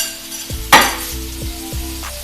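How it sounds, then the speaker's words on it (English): Pork tenderloin sizzles in a hot pan at close range, a steady crackling fry broken by a sharp burst as the meat is turned and a few light clinks of utensils, with no talk. "There's one side is seared. We're searing the other side."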